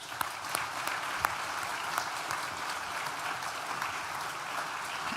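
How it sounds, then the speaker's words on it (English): An audience at a university graduation ceremony gives a steady round of applause, dense clapping with a few sharper claps, sustained for several seconds at moderate volume. "Please join me in thanking them with a well-deserved round of applause."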